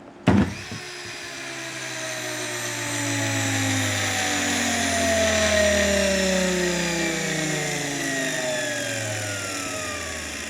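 A Hansa washing machine electric motor, running on a bench with reversible wiring, whirs steadily, its pitch gliding downward as it spins, with a click at the start and no talking.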